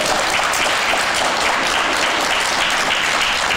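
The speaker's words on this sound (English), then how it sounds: "I appreciate the applause" Audience applause during a live Senate candidate debate in Medfield, a dense, even wash of many hands clapping together, loud and steady throughout with no talk over it.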